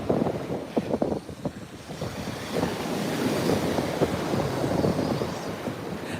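Strong gusting wind outdoors, buffeting the microphone with a loud, steady roar and rumble, with rough bursts early on that settle into continuous blowing noise, with no voices.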